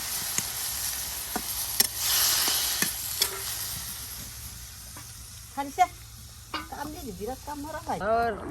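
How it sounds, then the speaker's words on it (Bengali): Eggs and potatoes sizzle quietly in a pan as a utensil clinks and scrapes; a voice begins speaking near the end. "ডিম একদম ভাজা ভাজা হয়ে গেছে আর এই যে দিয়ে দেওয়া হলো সকল প্রকারের মশলা এবং আলু কুচি একসাথে"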